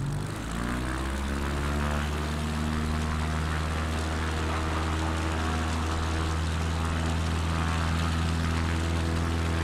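A propeller plane in a flight video game runs its engine at Saba, a steady loud drone with stacked engine harmonics that holds throughout as the aircraft takes off, with no talk over it.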